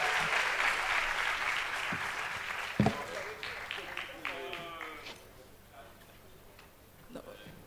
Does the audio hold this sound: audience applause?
yes